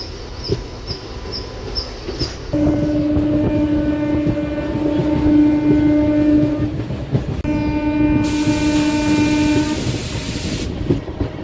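A MEMU passenger train running between Machilipatnam and Bhimavaram, sounding a long, loud, sustained horn in two blasts over the continuous rumble and clatter of the moving carriages.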